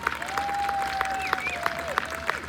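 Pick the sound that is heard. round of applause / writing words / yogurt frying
round of applause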